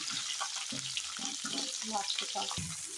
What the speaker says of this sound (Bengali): কেটে রাখা পাঁচটা পেঁয়াজ কুচি আগে থেকে ভালোভাবে এগুলোকে একটু ভেজে নেব লাল লাল করে